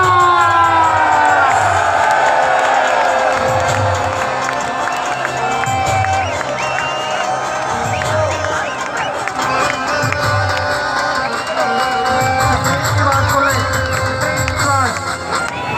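A dense crowd of PTI supporters celebrates in Lahore's Liberty Market, cheering, whooping and shouting steadily throughout for Imran Khan, with loud continuous voices and scattered claps all the way through.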